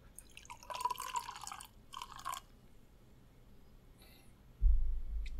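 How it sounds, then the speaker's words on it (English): Sparkling sake is poured into a glass in two short, faint bursts of trickling liquid, followed by a low thump. "Let me pour a little bit more in."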